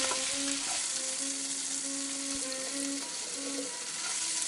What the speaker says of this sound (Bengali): হলুদ আর কাশ্মীরি গুঁড়ো লঙ্কা একটু জল দিয়ে মিলে খুব ভালোভাবে মশলাটাকে কষিয়ে নেব